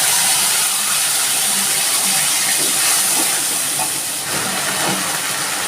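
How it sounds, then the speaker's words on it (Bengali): Onion, garlic and ginger paste dropped into hot oil with cinnamon, bay leaf and cumin seeds, a loud, dense hissing sizzle that holds steady throughout, with faint stirring and no voices. "আমি এবার পেঁয়াজ রসুন আদা বাটাটা দিয়ে দিচ্ছি"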